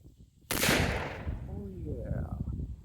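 A single loud blast from a cap and ball black powder revolver at a shooting range cracks suddenly after a quiet moment, then rolls off in a long echoing decay while faint voices murmur underneath.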